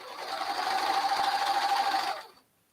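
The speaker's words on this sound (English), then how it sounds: "So you're just sewing straight down the entire thing." Sewing machine stitching straight down a fabric headband, running steadily at close range for about two seconds before stopping.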